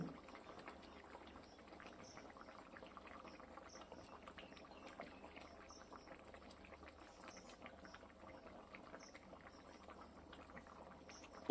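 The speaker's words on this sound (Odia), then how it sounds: "ଏବେ ବାସ୍ ଆଉ 2-3 ମିନିଟ୍ ପର୍ଯ୍ୟନ୍ତ ଆମେ ତାକୁ ଫୁଟିବା ପାଇଁ ଛାଡ଼ିଦେବା" An Odia bhakura fish curry bubbles steadily in a pot, a soft continuous simmer with small popping bursts throughout, fairly faint and close.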